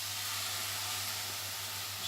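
Vegetables steam in a pan with a little water, giving a steady, even hiss with a low hum underneath, unbroken and fairly quiet, with no talking.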